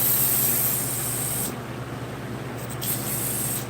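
Carburetor cleaner sprays onto a Honda GX series engine carburetor in a loud, close, continuous hiss, dropping slightly after about a second and a half and then surging again briefly.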